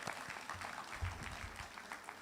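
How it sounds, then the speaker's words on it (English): A graduation ceremony audience at Excelsior Community College applauds a guest, a steady wash of clapping that fills the space at a moderate, fairly quiet level. "Give her a round of applause."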